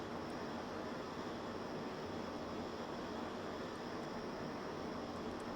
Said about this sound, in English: The jets are insanely powerful.